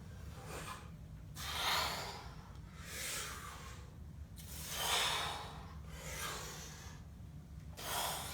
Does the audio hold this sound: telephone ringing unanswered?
no